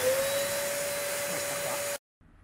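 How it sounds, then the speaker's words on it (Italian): A vacuum cleaner hums steadily while cleaning a car interior, a constant close whine for about two seconds before it cuts off abruptly into near silence. "Ora adesso vado ad aspirare con l'aspirapolvere."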